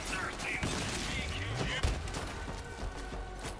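Video game gunfire from Borderlands 3, a rapid string of fairly faint shots popping under a dense wash of game sound, with a couple of heavier thumps midway.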